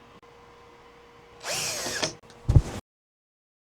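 A power drill briefly whirs to tighten a ceiling fan's mounting bolts on a 48-inch WINGBO flush-mount fan, a half-second burst followed by a short clunk, then silence.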